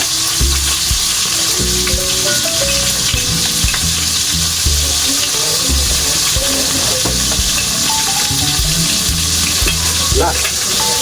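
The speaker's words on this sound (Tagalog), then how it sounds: "Prito." Food frying and sizzling loudly in a pan in a home kitchen, a steady dense crackle throughout with occasional stirring scrapes and clinks of a utensil.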